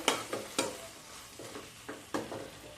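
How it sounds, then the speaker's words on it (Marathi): A spoon scrapes through drumstick and potato curry sautéing in a pan, several distinct stirring strokes spaced unevenly over a low sizzle, close and quiet with no talking. "पुन्हा एकदा परतवून घ्यायचंय"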